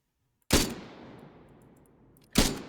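SAP SR338 rifle, a bolt-action hunting-style weapon from the Halo-inspired Cole Protocol mod for Arma 3, fires two loud single shots about two seconds apart, each with a long reverberant tail between them.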